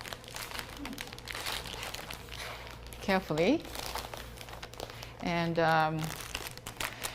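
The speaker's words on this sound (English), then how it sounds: "you can put them back into the plastic bag" Plastic bag crinkling steadily as items are put back into it, close up and continuous, while a person talks over it.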